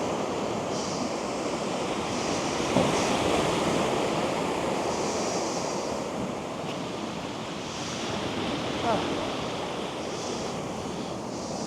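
Big waves rolling onto a shore on a day with no wind, a steady roaring surf wash with occasional louder splashes, continuous and fairly close, with no voices.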